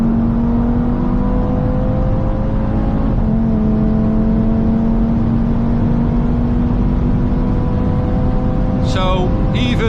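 An Audi RS3 with 564 hp pulls at full throttle on the Autobahn, heard from inside as a loud, rising engine whine through the gears with a brief shift dip and a sharp burble near the end.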